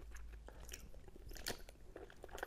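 Close, quiet crunching bites and chewing of fruit corn, a few crisp crunches with soft mouth sounds between them, no talking.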